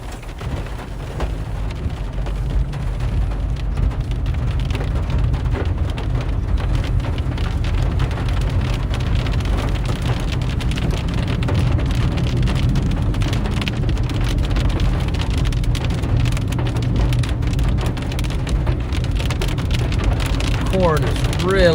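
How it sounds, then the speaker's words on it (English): Rain pours steadily on a car during a Nebraska storm chase with the window down, a dense continuous patter and hiss throughout, with occasional low rumbles of thunder. "I can get the window down so you can hear the thunder."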